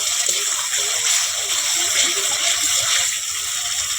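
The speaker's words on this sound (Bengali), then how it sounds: "জল দিয়ে দিলাম" Water poured into a mustard fish curry masala of katla fish cooking in a pan, a steady hissing gush and sizzle lasting the whole moment, close and fairly loud, no talking.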